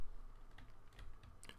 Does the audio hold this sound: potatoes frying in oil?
no